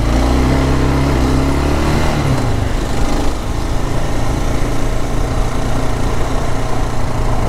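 A Kawasaki KLR 650 motorcycle engine drones close and steady as the rider leaves a mountain road for gravel, the pitch dropping and the sound roughening after a shift partway through.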